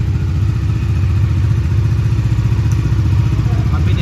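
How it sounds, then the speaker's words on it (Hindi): A Bajaj Dominar 400 motorcycle, 2023 E20 model, idles close by with a steady, loud, rhythmic low thrum that holds evenly throughout. "अभी मैंने इंजन स्टार्ट कर ही दिया है"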